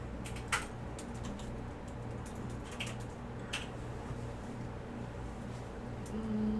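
Someone types a command on a computer keyboard, scattered light key clicks over a steady background hum, with a few sharper keystrokes spaced through the stretch.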